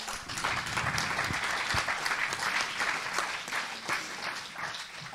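Audience applause fills a German cultural conference hall, a steady, dense wash of many hands clapping close and loud throughout, with no voices over it.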